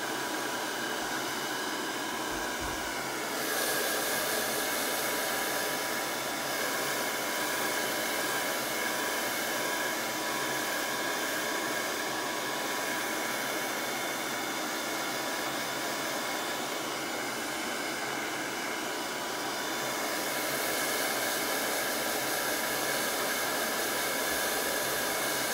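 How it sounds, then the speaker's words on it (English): A blow dryer on its cold setting, aimed at a craft transfer for a manger scene, gives a steady, loud, even whoosh of blowing air that runs continuously throughout with no talking. "We're going to hit it with a blow dryer"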